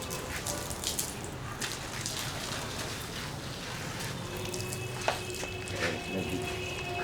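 Water running from a pipe outdoors: a steady, even hiss of flow and splashing, fairly close, with a few faint clicks and knocks and no talking.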